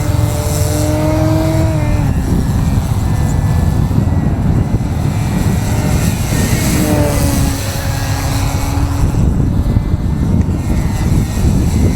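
An XR-52 model airplane flies overhead with a loud, continuous engine drone, its pitch rising and falling as it passes through maneuvers, under steady outdoor background noise.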